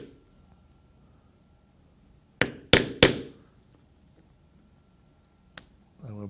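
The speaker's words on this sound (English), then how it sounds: "Next, I will punch some holes in my belt loop." A leather punch strikes through a leather knife sheath belt loop to make stitching holes: three sharp, close knocks in quick succession, then a single fainter one a few seconds later, over a quiet room.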